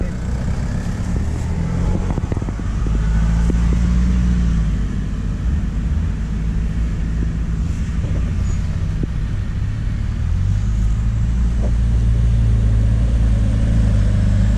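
Off-road vehicle engine revving hard and rumbling continuously as it climbs into a channel on a rough trail, loud and close throughout, with low growling throttle changes.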